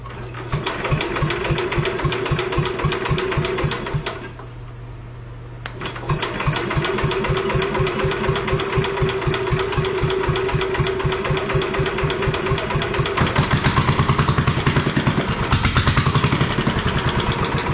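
A car engine runs steadily after its intake manifold was worked on, a loud, continuous idle with rapid regular firing pulses, briefly cutting out and then catching again, with no voices.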